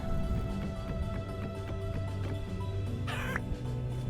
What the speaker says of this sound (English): the chickens do run away from you. There's a hen and a rooster.